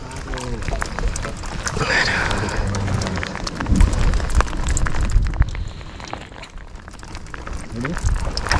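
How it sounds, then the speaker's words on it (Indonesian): Heavy rain falls during outdoor ultralight casting for fish, a dense crackling patter on surfaces and water, with nearby bumps and people talking over it throughout. "aduh tambah deras hujannya bro"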